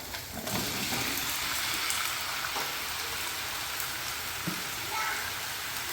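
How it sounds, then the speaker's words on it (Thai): Dense, steady sizzling and crackling from a hot pot fills the clip, loud and continuous, as chicken and Thai melon are added and keep frying. "นี่นะครับจะใส่ไก่กับแตงไทยลงไปนะครับ"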